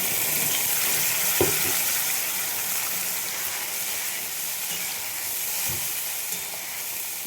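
Spice paste with black cumin cooks together with sea tengra fish in a pan, producing a continuous moderate sizzle and hiss with a few soft spoon knocks, no speech.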